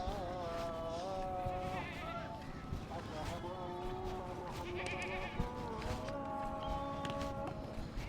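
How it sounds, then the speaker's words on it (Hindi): Sheep and goats grazing in the evening bleat repeatedly, several overlapping wavering calls at moderate distance, while someone talks over them in a busy outdoor setting. "भेड़ बकरियां देखें चर रही हैं, शाम का टाइम है"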